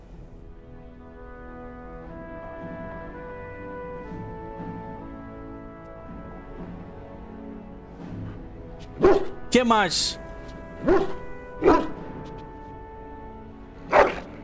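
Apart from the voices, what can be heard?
dog barking in the video game Dragon Age: Origins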